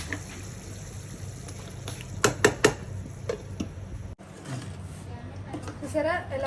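A crab curry being stirred in a cooking pot, with fresh coriander added near the end: a few scraping clinks of a spoon against the pot, soft bubbling, and then a gentle sizzle underneath.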